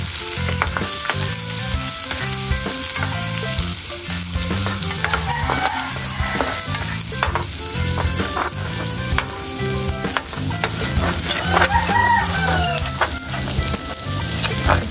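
Onions sizzle steadily in a hot pan for pork sotanghon, with the scrape of stirring cutting through the continuous frying hiss over background music, close and without talk.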